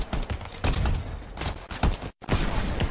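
Missiles and weapons fire in the video game Anthem: dense, loud bursts of rapid shots and blasts that pour out continuously, break off in a brief silence, then resume, with no talking over them.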